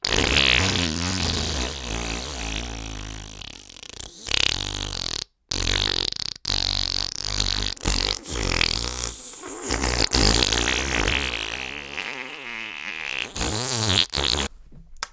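Fart sound effects play one after another, a long run of loud, buzzy, sputtering blasts of varying pitch and length, broken by a few brief gaps, with no talking.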